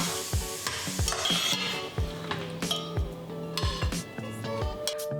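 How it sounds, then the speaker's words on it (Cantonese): Beef stir-fried in a little oil in a pan until nearly cooked, with a steady close sizzle broken by repeated scraping and clinking of a metal utensil against the pan. "炒到大概8成熟，盛起備用。"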